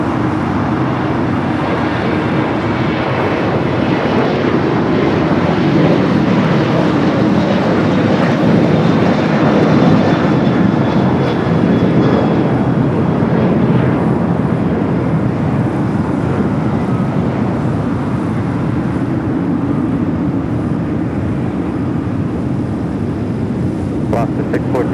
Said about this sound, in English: Next takeoff, Alaska Flight 614 heading to Seattle is 737-900ER.